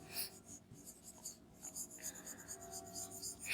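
A marker or chalk writes on a classroom board during an accounting lesson, giving scratchy strokes at close range with faint low talk in the background.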